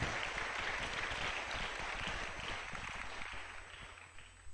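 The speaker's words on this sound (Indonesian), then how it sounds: "Tepuk tangan yang gemuruh untuk Aulia Cendekia." Loud, sustained applause from a large crowd at an Islamic boarding school gathering, dense clapping filling the whole stretch with a slight fade near the end.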